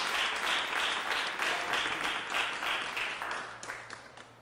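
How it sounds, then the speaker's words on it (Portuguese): A church congregation claps in praise, a dense steady wash of applause that swells in pulses and thins toward the end, with no speech over it. "Dê um aplauso bem forte de louvor ao nome do Senhor"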